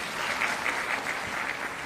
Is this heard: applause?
yes